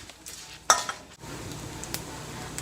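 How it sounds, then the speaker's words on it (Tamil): Cumin seeds fry in ghee with a soft, faint sizzle, broken by a single sharp clink of a spoon stirring the pan. "சீரகம் பார்த்தீங்கன்னா அப்படியே படப்படன்னு பொரியுது"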